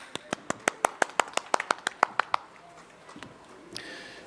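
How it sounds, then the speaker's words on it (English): A single pair of hands claps steadily about a dozen times in quick rhythm, then stops, leaving faint room noise, at a corporate business summit. "with a huge round of applause"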